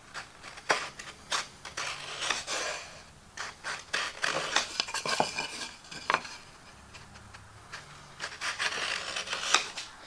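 A chisel scraping and tapping along the edge of a wooden board while marking out dovetails, a series of short close scratches and knocks in irregular rhythm, fairly quiet with no talk.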